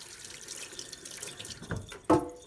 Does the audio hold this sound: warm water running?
yes